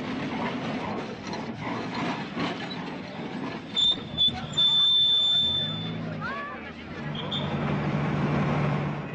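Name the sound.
old decrepit tramway running in Paraguay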